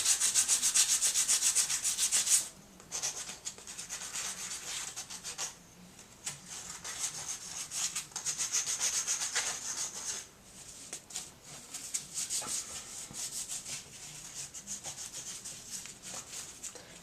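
Pieces of a puzzle cube are rubbed against newspaper used like fine grit, giving a steady, close scratchy sanding hiss in repeated strokes with brief pauses.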